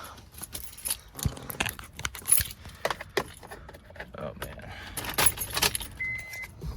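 Car keys for an Acura RSX Type S jangling and clinking in bursts close by, with rustling handling noises and a man muttering briefly.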